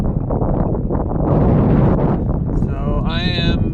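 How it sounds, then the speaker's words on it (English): Loud, steady wind roars across the microphone high on a rock face during a climb at Meteora, Greece, with a faint voice-like tone near the end. "It's super windy right now."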